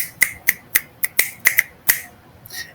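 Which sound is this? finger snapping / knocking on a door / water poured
finger snapping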